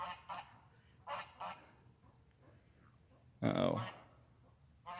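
A large goose honks outdoors in several loud, close bursts: two quick pairs early on, then one strong honk later, separated by quiet background.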